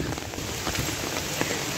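Steady rain falling outdoors near a village shrine, a dense continuous patter on surfaces, fairly close and even throughout, with no talk.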